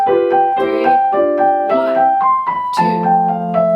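Piano plays a passage of Beethoven's Für Elise slowly in three-beat time, single melody notes over left-hand broken chords ringing and sustaining, close and clear with no voices.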